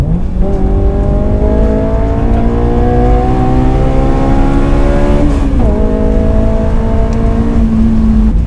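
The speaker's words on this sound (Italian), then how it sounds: "riesco a sentire molto bene il sound puro di questo VTEC e il sound dell'aspirazione" A high-revving Honda S2000 VTEC engine screams loudly as it accelerates, pitch climbing steadily, with one gear shift and a raspy intake and exhaust note.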